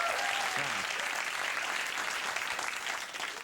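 Sparse, scattered clapping from a small fraction of a large theater audience of about 10,000 at a late-night comedy show, a thin steady patter that trails off without building.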